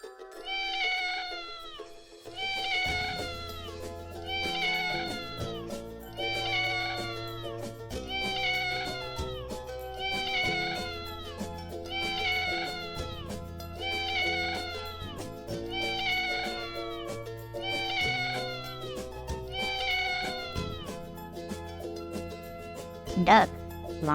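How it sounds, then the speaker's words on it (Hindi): A domestic cat meows repeatedly in a steady series of drawn-out, rising-then-falling calls, about a dozen in all, sounding close and clear over a soft musical backing. "कैट माने बिल्ली।"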